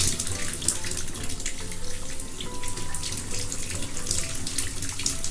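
Running water pours steadily as a child's hair is rinsed at a sink or tub, a continuous close splashing stream with no talk.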